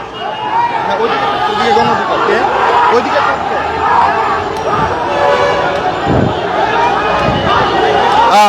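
Dhaka University students march in a protest procession, a loud, dense crowd chanting and shouting together outdoors, with overlapping voices and rhythmic calls filling the whole stretch.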